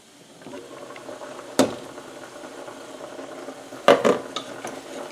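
Escarole sizzling steadily in a pan for an Italian escarole and beans dish, with two clattering scrapes as the greens are turned with a utensil, close and alone.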